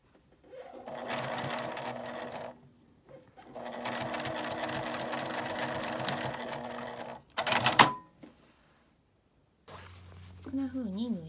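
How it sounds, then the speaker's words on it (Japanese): Sewing machine stitching folded fabric on an L-shaped zipper pouch, running in two long steady bursts with a short clatter between, and a voice speaking briefly near the end. "そのままゆっくり縫います。"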